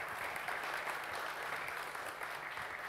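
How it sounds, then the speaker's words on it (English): An audience at a Serverless and AWS event in Tallinn gives speaker Dan a dense, even round of applause, a steady wash of many hands clapping throughout. "let's give applause to Dan."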